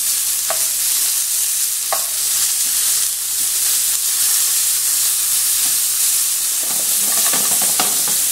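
Beef browning in the pan of a slow cooker gives a steady, close sizzle and hiss of frying meat, with occasional scraping stirs and a brief louder shuffle near the end, no voices.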